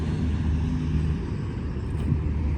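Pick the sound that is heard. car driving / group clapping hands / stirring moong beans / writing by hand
car driving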